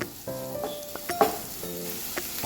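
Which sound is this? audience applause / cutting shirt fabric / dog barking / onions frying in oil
onions frying in oil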